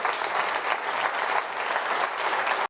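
Brisk, steady clapping from an audience at Andy Burnham's political leadership speech, a short continuous burst that cuts off abruptly.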